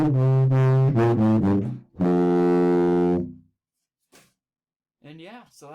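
A tuba plays the Thomas the Tank Engine theme in a run of loud, sustained low notes that step up and down, then a short break before a voice briefly speaks near the end.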